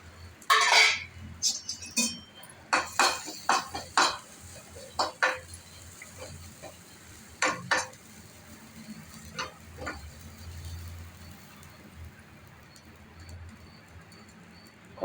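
Grated coconut roasting in ghee in a pan for payasam gives soft sizzling with intermittent scraping and stirring clicks, close and moderately quiet.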